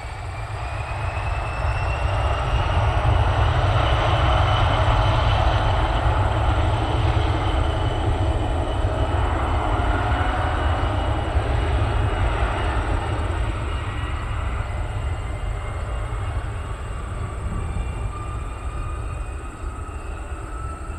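A small plane's engine roars steadily through takeoff at Spirit of St. Louis Airport, a loud sustained drone with rising tonal whine, continuous for about twenty seconds with no voices.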